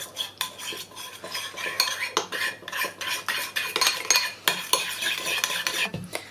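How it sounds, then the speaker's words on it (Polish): Utensils stir a salad of Chinese cabbage, omelette and soy sauce in a bowl, giving a busy run of close scraping, clinking strokes in an irregular rhythm with no talking. "Teraz wszystkie składniki wymieszamy."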